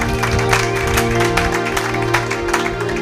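Church congregation clapping and cheering during a worship service, a dense wash of applause at steady loudness with sustained music tones underneath throughout.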